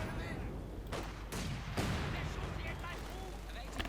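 Mortar fire in the real-time strategy game Company of Heroes 2 sounds as several dull, booming impacts and blasts amid continuous battlefield noise, partly under a commentator's talk.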